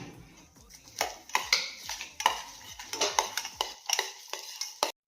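Fruits for a Christmas fruit cake being mixed with a spoon in a bowl, a series of close clinks and scrapes at irregular intervals, fairly quiet, ending abruptly.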